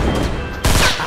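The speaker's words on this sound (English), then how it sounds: "Oh, I saw gunfire." Burst of video game gunfire, a loud crackling volley that kicks in sharply partway through over a steady background of game ambience.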